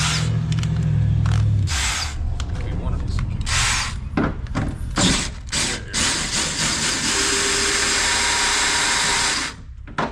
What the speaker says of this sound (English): And this is a drill and not an impact.